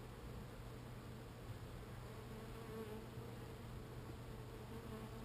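Honeybees from a three-pound package colony drone steadily inside the hive, a faint, continuous close buzz with no talking.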